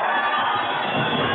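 A crowd applauding and cheering at a caporales dance contest in La Paz, Bolivia, in 1995, a dense continuous roar of clapping and shouts with a muffled, band-limited quality.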